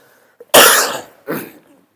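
Two close coughs, a loud harsh one followed by a softer second after a short pause, with no talking.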